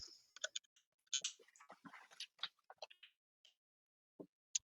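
Someone types on a computer keyboard in short, irregular bursts of soft, close clicks and taps with pauses between them, and no talk.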